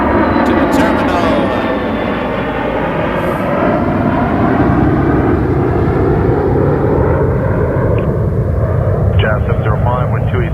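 A British Airways jet airliner taxiing back to the terminal at Toronto Pearson Airport, a loud continuous engine roar and whine that shifts slowly in pitch, close by and filling the scene throughout.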